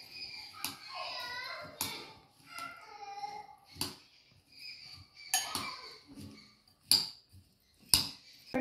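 A spoon mixing a cucumber salad seasoned with pepper and salt in a bowl, giving light irregular clinks and scrapes, with someone talking nearby through much of it.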